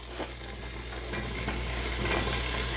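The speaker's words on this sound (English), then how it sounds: "while my onion and celery was sauteing, I cut up my green pepper. I'm just gonna add in that now" Chopped green pepper goes into a pan of sautéing onion and celery, giving a steady hissing sizzle that swells slightly as the vegetables hit the hot oil, with no talking.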